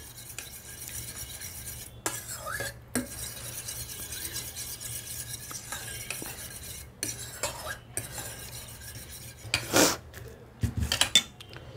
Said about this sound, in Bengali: ডিমটাকে আমি একটু ফেটিয়ে নিচ্ছি।